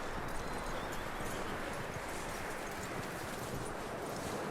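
Horse hooves clip-clop steadily in Red Dead Redemption 2, a continuous soft patter of hoofbeats mixed into a dense outdoor background.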